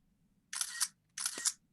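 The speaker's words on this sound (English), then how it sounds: "Even got the shutter sound." Two crisp camera shutter clicks about half a second apart, each a short burst of mechanical clatter, close and loud against near silence.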